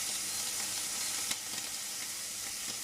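Lardons sizzle steadily in a hot pan over the heat on a home stovetop, a soft continuous frying crackle with one brief clink partway through, no voices.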